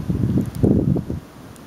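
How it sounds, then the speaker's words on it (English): Gusty wind blowing through a snowy Long Island neighborhood during a blizzard, a rough rushing roar that swells and eases over a short stretch, then drops to quieter hiss at the end. "It's certainly snowing more and the wind's kicking up a bit."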